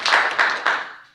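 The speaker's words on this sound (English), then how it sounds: "the Statesman, Cindy Gwynn, so a round of applause for her" Brief burst of audience clapping at an evening newspaper symposium on prison reform, greeting the new editor-in-chief; a few quick swells of applause that fade out within about a second.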